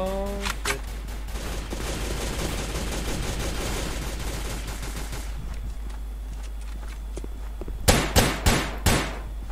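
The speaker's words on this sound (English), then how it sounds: "Man, this weapon is broken, not gonna lie. Fully automatic sniper" Rapid fully automatic sniper rifle fire in the shooter game Combat Reloaded 2, a long dense stream of shots followed by a pause, then four loud, sharply separated cracks close together near the end.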